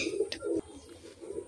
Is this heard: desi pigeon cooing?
yes